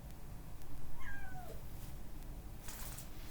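A cat gives one drawn-out, falling meow indoors, heard clearly over a low, steady background rumble, with no one speaking.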